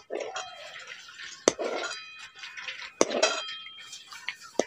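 Milk and cornflour mixture being stirred in a pot for homemade vanilla ice cream, with repeated clinks and scrapes of a spoon against the metal pan, three sharper knocks standing out, no talking.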